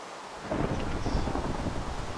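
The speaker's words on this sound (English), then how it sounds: "I just saw lightning strike like 10 blocks from me." Thunderstorm in the Minecraft video game, with a steady wash of rain and wind noise and a low rumble of thunder building near the middle, loud and continuous with no talk.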